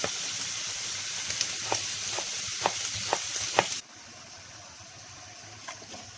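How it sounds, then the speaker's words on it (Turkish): Thinly chopped kokoreç fries in a pan with a steady, close hiss, broken by sharp pops and crackles, before the sizzle drops to a quieter simmer. "Hepsini de bu şekilde tavada kızarttım"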